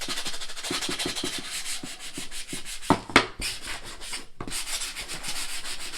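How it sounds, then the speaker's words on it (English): Steady back-and-forth rubbing of a Dollar Tree sanding block on a wooden box frame, close and continuous, broken by a couple of sharp knocks midway. "This is just a sanding block I got from Dollar Tree."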